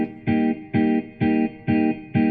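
Guitar part from a Yamaha DGX 670 keyboard style playing five evenly spaced, sustained chord strikes with a clean, bright tone, loud and alone in a steady rhythm.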